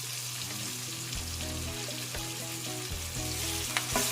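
Chopped white onion frying in a hot pan gives a steady, close sizzle throughout, with a few light scrapes and knocks of stirring on top.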